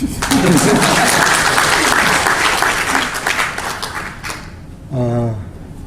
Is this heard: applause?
yes